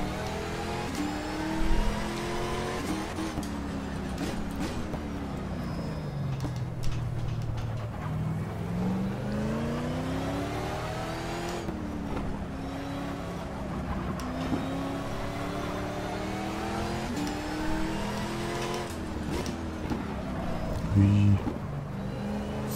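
A race car engine in the Race07 video game howls around the Nürburgring, pitch climbing and dropping through gear changes and braking, loud and continuous with talking over it.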